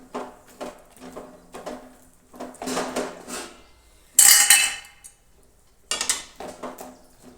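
Peanuts are stirred into hot sugar syrup in a pan with the flame off, heard as a series of close metallic scrapes and clinks from a spoon against the pan in irregular bursts.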